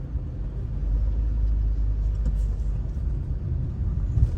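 A car with an automatic gearbox being driven, a steady low engine and road rumble heard from inside the cabin, fairly quiet and continuous with no talk.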